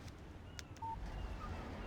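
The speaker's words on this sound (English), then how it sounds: "Text message from Barry" A brief, faint electronic text-message alert tone from a phone in the video game Alan Wake sounds once over a low background hum.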